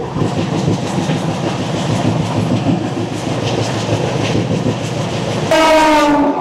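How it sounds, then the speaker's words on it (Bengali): The down Chennai-Howrah Mail passes close by at Bauria station in heavy rain, a loud continuous rolling clatter that ends in a long, blaring horn blast. "বাউরিয়া স্টেশনে দেখা হয়ে গেল ডাউন চেন্নাই হাওড়া মেলের সাথে"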